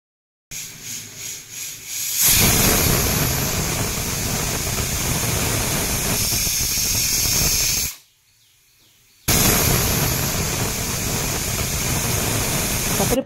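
Steady loud hiss of steam escaping a pressure cooker cooking sweet ghee khechudi with sugar, running continuously with a brief cutoff partway, and no talk.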